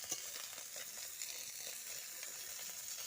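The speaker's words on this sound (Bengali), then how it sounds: "মাছটা খুব ভালোভাবে ভাজা হয়ে যাবে" Small mourala fish frying in oil in a wok, a faint, steady hiss of sizzling oil with soft crackles, quiet and without talking.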